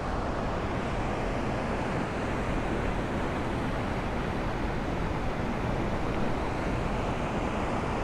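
A mountain creek in the Rockies rushes steadily for the whole stretch, a dense, even wash of flowing water that stays loud and close with no pauses or voices.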